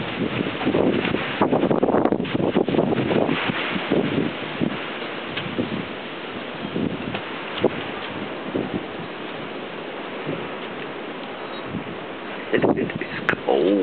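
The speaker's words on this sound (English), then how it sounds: "Wind gust not coming through here right now." Wind gusts sweep through trees during a Washington, D.C. snowstorm, a rough, rushing roar with rustling that surges, eases off, then picks up again near the end.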